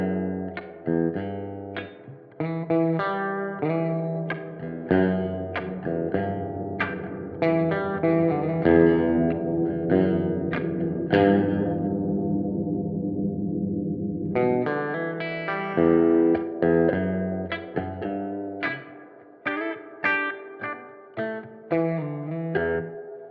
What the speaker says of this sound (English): So we're actually making the reverb bigger by accentuating the low frequencies more.